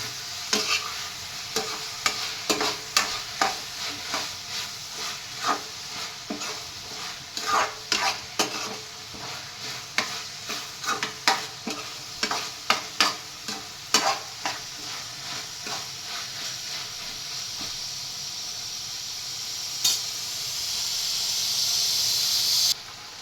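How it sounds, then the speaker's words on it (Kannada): Egg curry with fresh coriander is stirred in a hot pan, with repeated rhythmic scrapes and clacks of a spoon over a bubbling sizzle that rises into a steady hiss toward the end. "ನೀಟಾಗಿ ಅದನ್ನು ಮಿಕ್ಸ್ ಮಾಡ್ಕೊತಾ ಇದ್ದೀವಿ"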